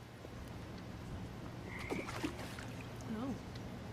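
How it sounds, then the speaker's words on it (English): Toads croak in the video game What Remains of Edith Finch, a few soft, wobbling calls over a quiet ambient bed, with a faint voice in the background. "And toads."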